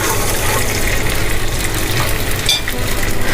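Garlic sizzles and crackles steadily in a hot pan, a loud, close frying hiss with a brief stir partway through.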